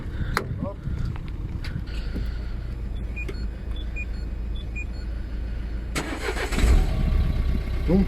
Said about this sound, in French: Maintenant on va voir pour la Mégane si elle démarre.